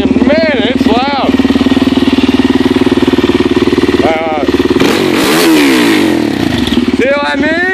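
An ATV engine fires up and runs loudly close by, a steady rough roar that swells and revs midway, with people talking over it at the start and end.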